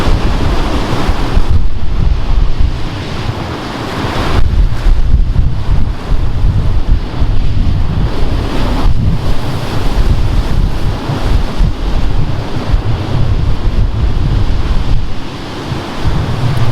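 Ocean waves break and surge steadily over a harbour bar in rough seas off a fishing boat, a loud continuous roar of surf with heavy wind buffeting the microphone and no talking.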